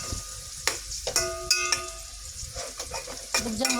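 Raw chicken pieces are dropped into a hot pan to fry for Filipino chicken adobo, giving steady crackling sizzle and oil spatter with a few sharp clinks of utensils against the pan.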